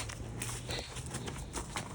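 Horse hooves clop at a walk during a hack, a faint, regular plodding rhythm against low background rumble and wind, with no voices.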